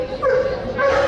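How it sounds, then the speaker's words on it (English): Dogs at the Royal Adelaide Show give a short yip and whimper close by. The sound is a brief, whiny burst with a slight voice-like edge. "let's have a look at the dogs that are here"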